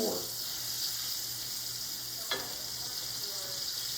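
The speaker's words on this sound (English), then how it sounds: "So now we get these into the fryer a second time" Chicken pieces getting their second fry in hot oil in a deep fryer, a steady, dense sizzle and crackle throughout, with a single faint click partway through.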